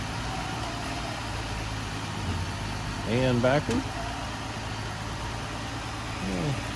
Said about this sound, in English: Started right up with a jump. Moving it forward.